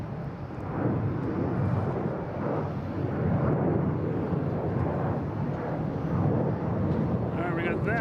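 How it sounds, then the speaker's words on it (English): A Delta Boeing 737-900 jet takes off at night at Boston Logan International Airport, heard as a loud, steady engine roar with broadband rumble that holds without a break. "we have Delta taking off to West Palm Beach"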